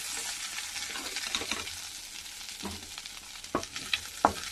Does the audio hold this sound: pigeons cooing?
no